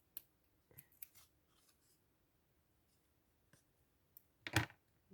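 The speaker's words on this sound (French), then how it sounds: "Je vais prendre les petits ciseaux." Small scissors snipping card for a junk journal, a few quiet isolated snips and clicks spread out in a near-silent room, with a louder cut near the end.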